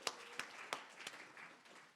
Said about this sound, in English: would you all please give an applause to Don for his creativity